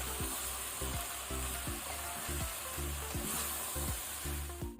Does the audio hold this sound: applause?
no